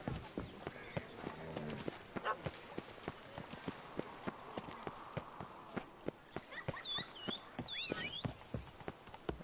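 Roach the horse in The Witcher 3 trots along in a steady, close clip-clop of hoofbeats, with a brief whinny-like call and a voice near the end.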